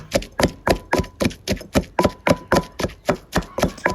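Rapid, evenly spaced pounding thuds, about fifteen close, loud strikes in a steady rhythm, as a pestle pounds small fish meat in a mortar for a termite mushroom dip.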